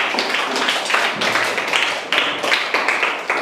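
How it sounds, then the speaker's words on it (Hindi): A school class stands and claps in uneven bursts, with sharp, close hand claps breaking into several ragged rounds rather than a steady roar. "गुड, ताली बजाइए सब लोग, खड़ा होकर ताली बजाओ"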